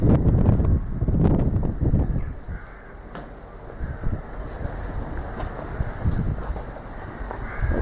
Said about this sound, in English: It's a little bit windy today, unfortunately.